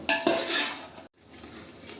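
A spoon scrapes and clinks against a pot as chicken is mixed with salt and masala for chicken biryani. The stirring is loud and busy at first, stops briefly, then resumes more softly.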